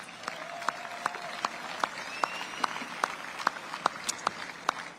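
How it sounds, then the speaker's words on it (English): Sparse, separate hand claps from a small audience at a Brussels celebration event, sounding like a light round of applause with distinct individual claps spread evenly across the moment, moderately close. "And they deserve a round of applause."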